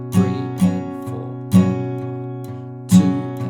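Acoustic guitar strumming the opening chords of a song with accented strokes, a few loud down-strums standing out above lighter strokes in a steady rhythm, close and solo with no voices.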